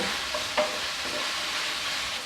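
Vegetables stir-fry in a hot pan alongside rice cakes for Korean tteok japchae, a steady sizzle broken by a few spatula scrapes and tosses, close and continuous without speech.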